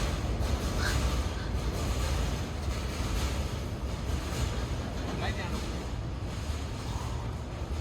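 Norfolk Southern intermodal freight train passing overhead on a bridge, a steady loud rumbling roar with rattling for the whole stretch, heavy low-end noise and no pauses.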